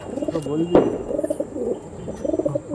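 Blue-necked pigeons of Andhra Kalshira stock coo in repeated soft rolling phrases at a market, with a sharp bump partway through and someone talking over the birds.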